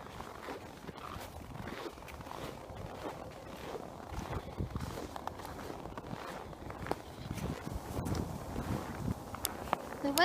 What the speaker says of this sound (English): The wind starts to pick up as we get closer to the pond area.